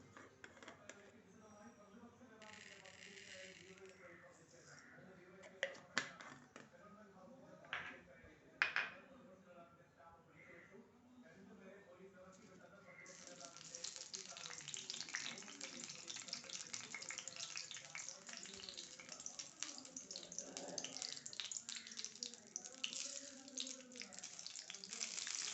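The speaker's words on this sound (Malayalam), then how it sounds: "എല്ലാ കടുകും പൊട്ടട്ടെ." Mustard seeds splutter in hot coconut oil for a jackfruit seed masala curry, starting quietly with scattered clinks and swelling into dense, continuous crackling and popping close by.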